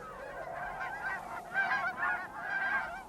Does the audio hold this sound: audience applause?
no